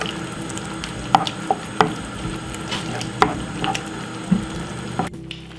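Tomato paste cooks in a pan with a soft, steady sizzle, broken by several sharp clicks and scrapes of stirring spaced a second or so apart, with no one talking.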